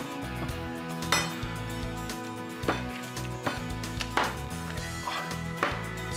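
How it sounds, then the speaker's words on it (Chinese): Knife chopping on a board in a kitchen setting, a steady run of sharp, fairly close strikes with a few louder clinking hits standing out, no voices over it. "怎么感觉好像在剁东西啊？"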